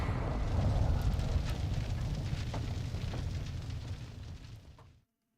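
An explosion in the video game Modern Warfare 2, heard as a loud, sustained rumble with debris crackle that fades over about five seconds and then cuts to silence.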